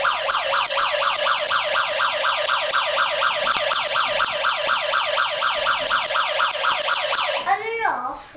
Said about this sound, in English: See when you press the siren?